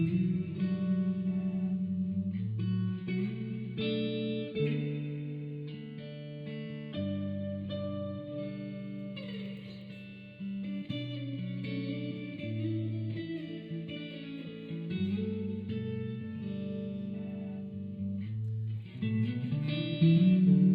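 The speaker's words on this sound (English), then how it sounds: "You can do octaves, so it sounds something like this." Electric guitar playing octave lines over a chord progression, drenched in reverb and echo effects, with sustained ringing notes and a catchy repeating phrase played alone without talking.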